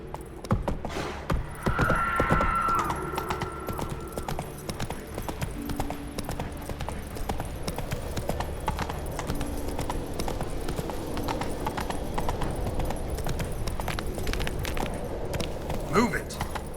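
Horse hooves clip-clop steadily through a Witcher 3 game scene, a continuous walking rhythm with occasional tack jingle, while a voice speaks over it.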